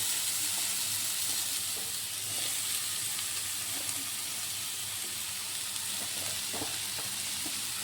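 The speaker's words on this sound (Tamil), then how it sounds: "கேரட்டை வந்து இந்த நெய்யில் நல்லா வதக்கி எடுத்துக்கலாம்." Carrots frying in ghee for carrot halwa, giving a steady, dense sizzle that stays close and even throughout with faint stirring scrapes and no talk.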